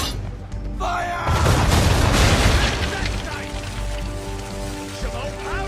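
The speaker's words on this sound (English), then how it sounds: "Now, aim all guns at her bow and do as much damage as possible" Ship cannons from Assassin's Creed 3 fire in a rolling broadside, a loud deep boom swelling into a rumbling roar that slowly fades into crackling debris, with speech mixed in.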